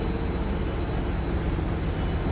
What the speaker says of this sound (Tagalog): umaandar yung mga generator